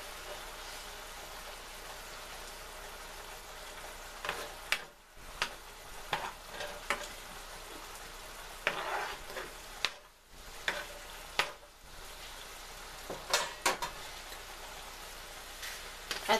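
Halibut seasoned with lemon pepper sizzles steadily in a pan just after being flipped, a continuous crackling fry broken by a few sharper spatters and clinks.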